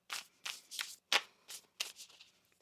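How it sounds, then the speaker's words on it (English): A tarot deck is shuffled by hand in six or seven quick, crisp riffling bursts at a steady pace. The sound is close and alone with no talk. "Let's get one more shuffle here."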